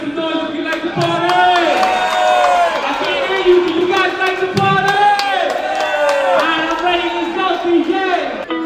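A lively crowd cheering and shouting loudly and continuously, with voices mixed through the noise.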